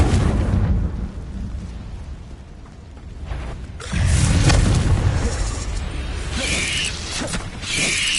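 The Confringo fire spell in the Hogwarts video game goes off as a loud booming explosion midway, preceded by rumbling game noise and followed by a sustained crackling roar.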